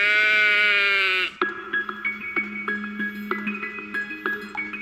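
A sheep bleats loudly and close in one long wavering cry, then a quieter string of shorter bleats follows in quick succession with no one speaking.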